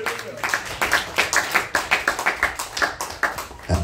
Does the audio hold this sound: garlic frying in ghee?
no